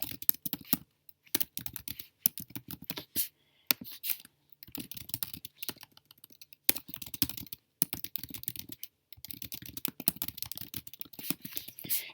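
Computer keyboard typing in quick irregular bursts of close, crisp key clicks separated by short silent pauses, with no voices.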